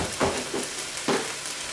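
Beef stroganoff ingredients sizzling steadily in a hot pan, with a few soft stirring scrapes breaking through the continuous close frying hiss.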